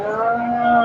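A large Friesian dairy cow lows once at a busy cattle market in Bogura, a loud, steady, tonal moo held close for under a second.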